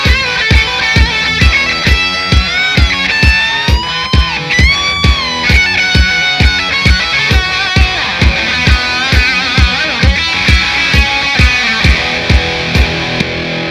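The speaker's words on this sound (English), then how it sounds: "this whole solo played up to speed sounds like this." Electric guitar solo from a song played at full speed over a steady backing track, with bright bending lead lines, prominent regular drum beats and loud, continuous playing.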